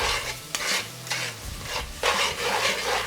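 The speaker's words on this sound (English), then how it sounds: "Give this a quick mix." A spoon stirs tomato paste through a pot over heat, giving a few rough scraping strokes with a light sizzle beneath, close and fairly loud, with no voices.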